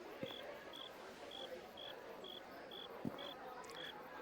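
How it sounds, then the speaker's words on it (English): Cricket ambience from the video game Neverwinter Nights 2: a steady chirp repeats about every half second over a quiet background, with a few faint clicks in between. "The cricket's meant to be soothing."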